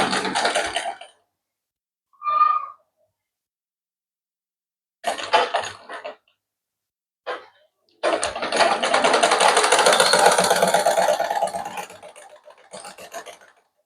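A sewing machine stitches a shirt in short separate bursts, then runs in one long steady whir lasting several seconds before tapering off, with no talk over it.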